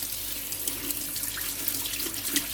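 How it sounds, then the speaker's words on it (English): Tap water runs steadily over cherries being rinsed in a sink, a close, continuous splashing stream with small patters, no voices. "You gotta rinse your cherries."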